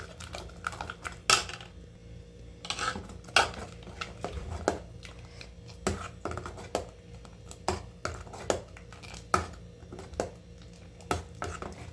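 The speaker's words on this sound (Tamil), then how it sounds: "கட்டி விடாமல் கிண்டிக்கிட்டே இருங்க" A spoon stirs milk with almond powder in a pan for kulfi, giving soft scraping and a steady run of light metallic clicks against the pan, close and fairly quiet, with no talk.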